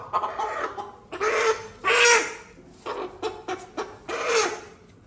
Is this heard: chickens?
yes